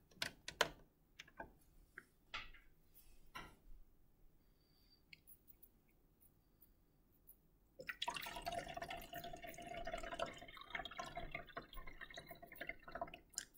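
Water pours into the reservoir chamber of a Knight Benedikt patient warming and cooling system: faint scattered drips first, then a steady soft trickle of filling that grows a little louder.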